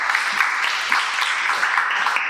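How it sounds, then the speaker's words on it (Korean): A crowd at a youth forum on judicial policy claps steadily and evenly for a couple of seconds, dense and sustained applause without any talking over it. "다시 한번 큰 박수 부탁드립니다"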